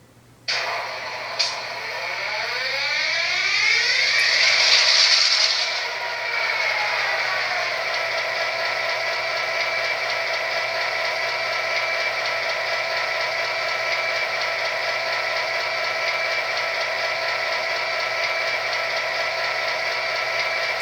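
An MTH HO-scale GP38-2 model diesel locomotive's engine sound starts up with a rising mechanical whir that settles into a steady, droning idle, continuing alone for a long stretch.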